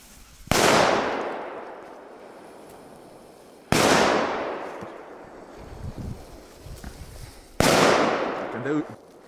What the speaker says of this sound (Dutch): Het zijn goede knallen, die hoor.